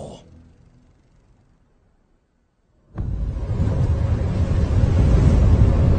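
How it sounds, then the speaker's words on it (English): Strong, cold wind roars in after a near-silent pause, a dense steady rush of noise that builds and holds to the end, with no voices. "The wind sharp and strong."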